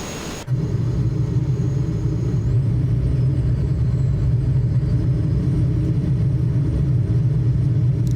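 A Dassault MD 450 Ouragan jet in a Microsoft Flight simulator spools up for takeoff: a steady, loud engine rumble and roar holds evenly throughout, with a faint rising whine above it and no voices.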